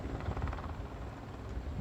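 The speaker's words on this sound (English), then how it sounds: "helicopter going behind the big movie screen there" A brief, steady rotor chop from a helicopter passing behind a big outdoor movie screen near a large fire, moderately distant and low, with no voices.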